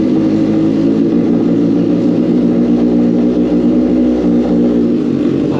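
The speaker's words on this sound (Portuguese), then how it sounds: "Esperar a moto agora dar uma esquentadinha" A Suzuki GSX 750 motorcycle engine warms up at a steady, loud idle with a dense low harmonic drone, close by and unbroken, with no voices over it.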